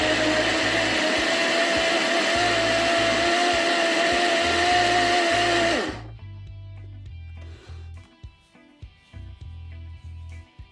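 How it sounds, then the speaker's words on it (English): A blender blending carrot juice whirs loudly for about six seconds at steady high speed, then cuts off, leaving quieter clunks and low background sounds. "Cover our blender and blend it."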